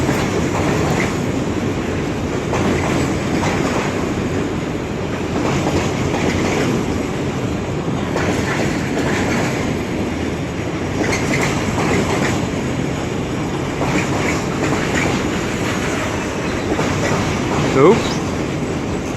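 A long container train rolls through Crewe station, a loud continuous rumble with rhythmic clickety-clack of wagon wheels on rail joints and a brief squeal near the end.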